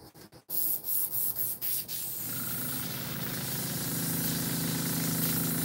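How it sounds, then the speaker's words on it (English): An airbrush is flushed clean: a few short hissy bursts of spray, then one steady continuous hiss of air and liquid close up, with no talking. "Let me clean this brush out."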